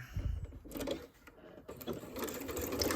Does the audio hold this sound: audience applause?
no